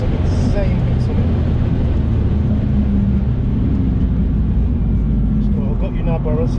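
A BMW M240i howls at full throttle around a race track, its exhaust popping through a gear shift while chasing a BMW M2. The engine roar stays loud and close throughout, with a voice talking over it.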